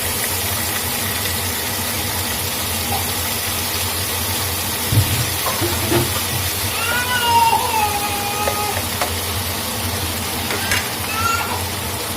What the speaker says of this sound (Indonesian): Sekarang saya mau goreng udangnya.